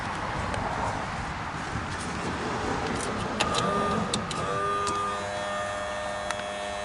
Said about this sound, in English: start the smoke machine again